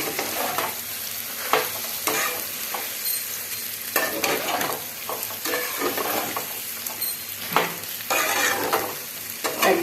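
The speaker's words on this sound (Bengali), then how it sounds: "এইবারে লেচিগুলোকে দিয়ে আমি কিন্তু ভালো করে মশলার সাথে কষিয়ে নেব" Pieces of flour dough stir-fried with spices in a pan over a low flame, with a steady sizzle broken by repeated scraping strokes of a spatula, close and fairly loud.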